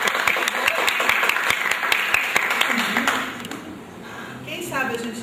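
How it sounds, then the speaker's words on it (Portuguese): An audience at an education talk applauds a teacher, with several sharp claps at first, then a thinner patter fading under nearby voices. "Vamos aplaudir a professora"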